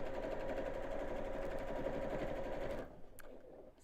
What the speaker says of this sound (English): So I'm closing the opening, sew over the top.